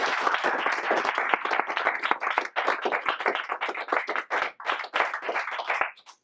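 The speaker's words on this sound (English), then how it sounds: "Let's give all of our candidates a round of applause." A crowd applauds steadily for several seconds after a political club debate, dense clapping from many hands, fading slightly toward the end.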